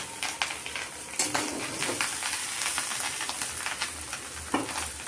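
Chowmein with beetroot, carrot, potato, cauliflower and fried egg is stirred and tossed in a sizzling pan: steady frying hiss broken by scraping spatula strokes and occasional clatter, close and continuous.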